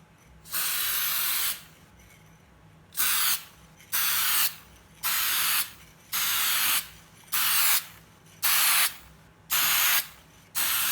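Clear coat sprayed from an aerosol can onto a pink and purple toy blaster: one long hissing burst followed by about eight shorter, evenly spaced spray bursts, close and fairly loud, with quiet gaps between.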